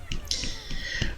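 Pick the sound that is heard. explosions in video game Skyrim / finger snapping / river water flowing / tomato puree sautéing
finger snapping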